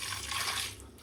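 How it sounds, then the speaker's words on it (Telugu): Water pours from a small vessel onto rice, a brief soft gush of liquid that fades within about a second. "ఈ బియ్యం ఒక చెంబు నీళ్ళు పోసుకోవాలి"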